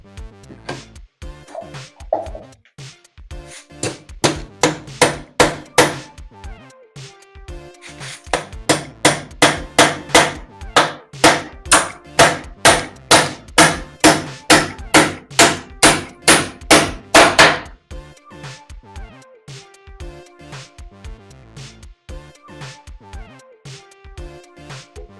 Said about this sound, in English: we're going to nail it into the wall this way now